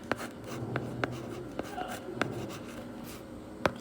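A chemistry formula being written by hand during a lesson, giving short scratchy pen strokes and taps spaced roughly every half second, close up, under a teacher's ongoing explanation.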